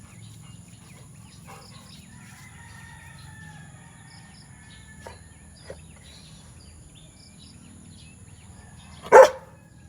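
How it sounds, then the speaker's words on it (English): A single short bark rings out near the end after near silence with faint background noise. "No barking on them."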